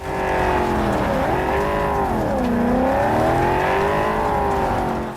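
Car engine driving in Cyberpunk 2077, a loud steady drone that rises and falls in pitch as it accelerates and eases off, continuous throughout with no talk.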